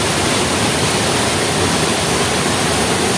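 Maranum Falls in Natividad, Pangasinan, pouring as a loud, dense, unbroken roar of falling water heard up close, with no voices.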